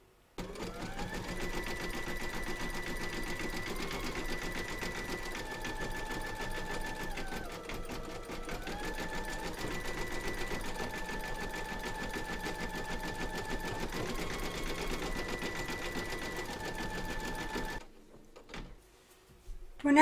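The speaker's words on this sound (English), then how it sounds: "Pop your hoop into your machine and stitch round number 8, and that's going to zigzag all the raw edges" An embroidery machine zigzag-stitches around the raw edges of a hooped appliqué segment, a long steady motor hum with pitch rising and dipping as it moves, then a sudden stop followed by faint handling noises.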